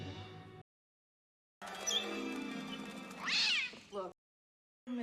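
A cat meows in a scene from the 1992 film Batman Returns, with harmonic yowls that end in a rising, caterwaul-like cry, separated by silent gaps and a short sound at the start.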